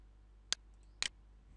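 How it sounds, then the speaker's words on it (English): Two sharp, quiet clicks about half a second apart from typing a group name on a computer keyboard, isolated against a faint steady hum. "I will type the name of my class"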